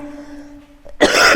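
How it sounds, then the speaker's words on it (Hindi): A single sharp cough breaks out loud and close after a stretch of quiet, faintly humming room tone, during a spoken maths lesson. "खांसी"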